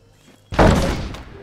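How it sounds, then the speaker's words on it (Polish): A small in-game explosion in Scrap Mechanic set off in a toilet, a single sudden loud blast that decays into a rumbling tail over about a second. "w kibelku taką małą eksplozję też możemy zrobić"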